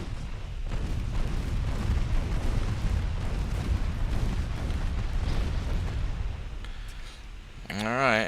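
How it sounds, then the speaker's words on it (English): Heavy naval combat in Ultimate Admiral Dreadnoughts as a torpedo hits a ship: a continuous rumbling roar of blasts and booms under a voice talking, ending in a sharp warbling tone. "This guy wants to get hit by another torpedo, it looks like."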